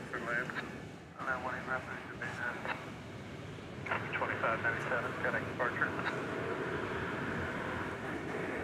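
American Airlines Boeing 777-200ER jet at DFW Airport at night, a broad distant engine roar that swells and holds steady, heard under continuous talking and crackly radio-like voices.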